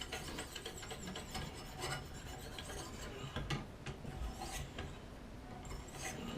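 A knife blade scrapes and rasps against a sharpening stone in continuous swirling strokes, a close, steady gritty rubbing with no speech.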